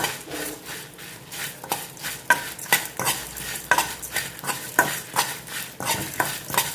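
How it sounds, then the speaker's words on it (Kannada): Coriander seeds and cumin dry-roasting in a pan for Kerala-style chickpea curry, with a steady scraping stir of a spatula and sharp periodic scrapes against the metal, close and fairly loud with no talk. "ಕೊತ್ತಂಬರಿ ಹಾಕಿಕೊಳ್ಳಿ ಮತ್ತು ಜೀರಿಗೆ ಹಾಕಿ ಉರಿ"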